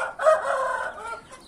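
A fighting rooster crows once, close and clear, a single drawn-out cock-a-doodle-doo that trails off.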